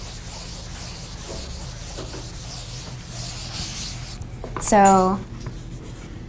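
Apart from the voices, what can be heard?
writing out a math formula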